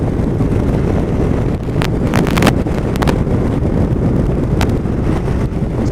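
Wind buffeting a microphone while riding, a steady loud rumbling roar with gusting surges, a few brief clicks and knocks breaking through, no voices.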